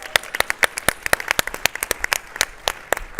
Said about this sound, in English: let's have one more round of applause for Cypher